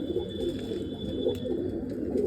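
Low, continuous cooing from a group of nearby pigeons, a soft rolling murmur with a faint steady tone in the background.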